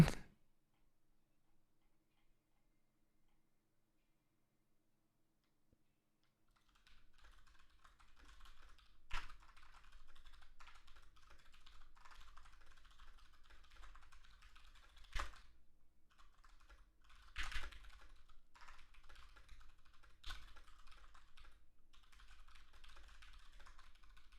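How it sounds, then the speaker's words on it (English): Someone typing angrily on a computer keyboard while playing Genshin Impact, a quiet patter of keys broken by several sharp, hard key strikes, after a few seconds of near silence. "Sorry, I'm angry typing."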